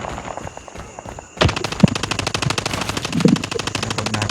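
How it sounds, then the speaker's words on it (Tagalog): A sentry gun in a battlefield shooter video game opens fire after a quieter first second, letting loose a loud, sustained stream of rapid automatic gunfire that continues to the end. "Sentry gun deployed."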